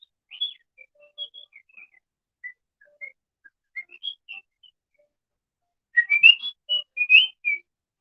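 A pet bird whistles short learned phrases, scattered thin chirping notes at first, then a denser, louder burst of whistles near the end, with quiet gaps between them.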